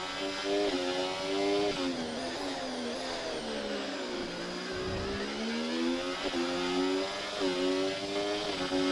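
A modern ground-effect Formula 1 car in an F1 video game at Circuit of the Americas screams at high revs, a steady loud engine whine with brief dips on downshifts, alone without speech.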